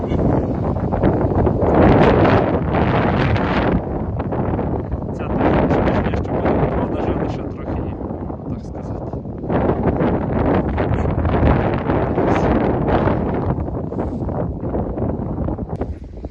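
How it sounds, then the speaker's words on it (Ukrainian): Strong, cold autumn wind buffeting the microphone in loud, uneven surges throughout, with no other clear sounds. "але вітер вже такий досить холодний"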